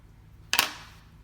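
A single quick, sharp snip of scissors trimming midge body thread while tying a balanced chironomid fly, close by in an otherwise quiet room.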